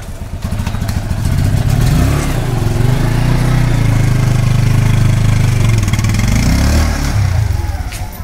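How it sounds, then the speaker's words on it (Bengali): Custom motorcycle built from Apache RTR, Hayabusa and KTM parts, its engine loud and close, rising from idle into a sustained deep throbbing rumble before easing back down. "দাদা নিজের অ্যাপাচি আরটিআর হায়াবুসা কেটিএম সব মিলিয়ে যে বাইকটা তৈরি হয় সেই বাইকটা বের করতে চলেছে"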